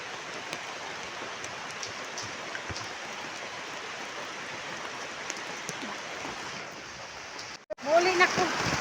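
Heavy rain pours steadily in an outdoor downpour, a dense, even hiss throughout, with a sudden louder rustle and splash near the end.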